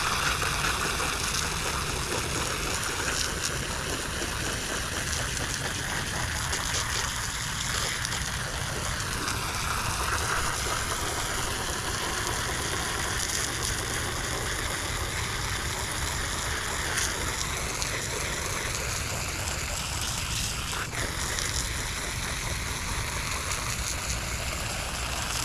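A hose nozzle on its jet setting sprays water while cleaning a pool, a continuous hissing, splashing rush that runs steady and close for the whole stretch, with no voices over it.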